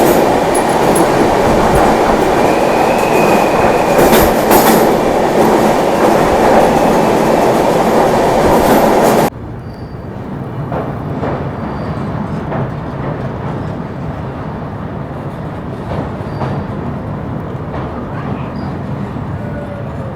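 Train on the New Delhi to Srinagar route passing through back-to-back tunnels, a loud steady rumble and rattle of carriages that abruptly drops to a duller, muffled roar partway through, with faint wheel squeals.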